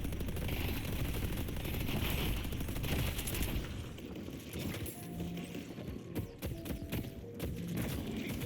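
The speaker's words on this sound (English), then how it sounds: "Putting down a turret." A deployed turret in the hero shooter Deadlock fires continuous rapid rattling bursts amid a dense, loud wash of battle noise, with thuds and clatter throughout.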